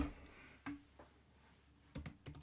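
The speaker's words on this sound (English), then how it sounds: "You can always type it right here." A company name is typed on a computer keyboard as a few sparse, faint key clicks in a quiet room, with a quick cluster of taps near the end.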